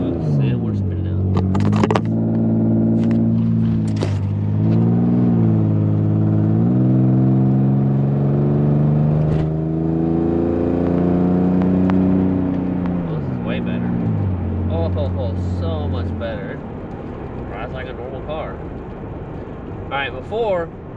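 A Nissan 300ZX Z32 with a transmission that won't shift pulls away in first gear with its wheels spinning. The engine note climbs and dips steadily up close while someone talks over it throughout.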